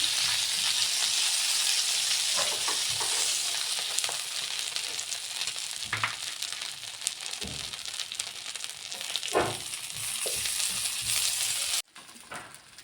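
Pav buns frying in butter on a pan, a steady loud sizzle broken by occasional soft thumps and scrapes as they are pressed and flipped, fading near the end.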